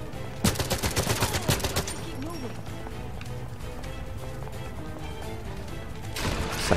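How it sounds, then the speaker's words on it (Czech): Rapid bursts of gunfire in the video game 007 Legends, loud close shots in a quick rhythmic volley, then a sustained roar of game noise, with someone talking over it. "Co po nás střílí dole?"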